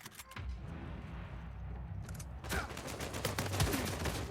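Gunfire from an AK-47 in an Uncharted 4 multiplayer gun battle: rapid bursts of shots crackle over busy game ambience, growing denser and louder in the second half.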